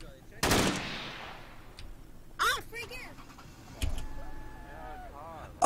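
Bursts of video-game gunfire during a bank robbery: a loud shot, then a sharp crack, then another blast, each fading quickly, with synthetic whooping electronic tones in between.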